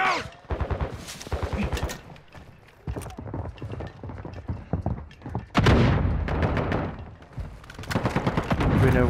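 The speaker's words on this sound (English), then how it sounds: "They're shooting from the water wall side." Rapid bursts of gunfire in Call of Duty crackle in quick volleys, some tight and stuttering like automatic fire, with heavier bursts near the end and a player talking between the shots.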